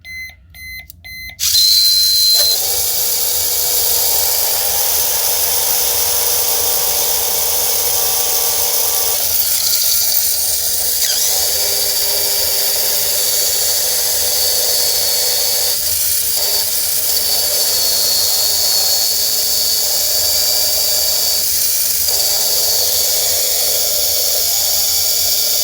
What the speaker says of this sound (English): I'm using a power dash motor.